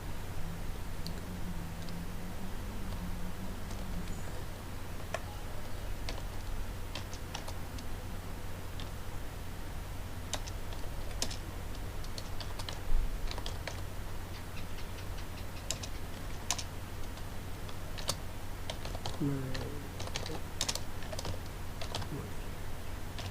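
Steady typing on a computer keyboard as a sentence is entered, with quick irregular clicks and taps at close range, fairly quiet over a low hum, with no talking.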